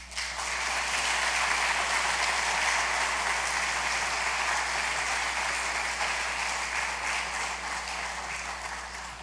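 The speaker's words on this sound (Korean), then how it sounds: "우리 큰 박수로 이우영 목사님 환영하고" Church congregation giving a big round of applause to welcome a visiting pastor at a Sunday service, a dense, steady wash of clapping that holds evenly and tapers slightly at the end.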